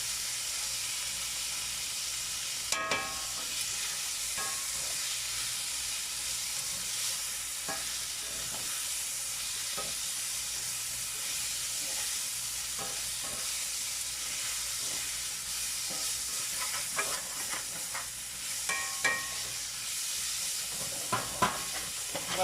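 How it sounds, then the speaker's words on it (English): Blackened beans in a pot on a van-life stove give a steady loud hiss of steam and sizzle, with occasional clicks and stirring scrapes through the middle and a cluster of sharper pops near the end. "I'm going to turn this off and let it go steam."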